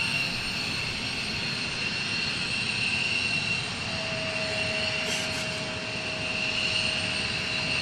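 Jet aircraft noise at Portland International Airport where F-15 fighter jets are taking off: a steady, distant roar with a thin rising whine partway through, no talking.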